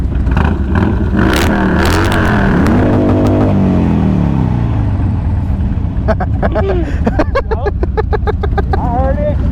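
A Harley Sportster motorcycle engine revs up hard toward redline, rising and falling in pitch, then settles into a rapid throbbing idle, heard close by with people talking over it.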